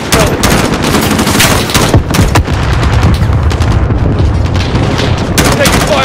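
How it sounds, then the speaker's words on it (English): Heavy, continuous gunfire in a Call of Duty Modern Warfare embassy firefight, loud and dense with rapid automatic bursts and booms layered together throughout. "We're taking fire from the residence."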